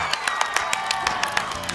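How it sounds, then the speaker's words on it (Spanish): Scattered hand claps ring out in a steady, fairly even patter for applause after a children's shadow-puppet show, with distinct sharp claps and no voices over them. "¡Demos un aplauso a todas nuestras sombras chinescas!"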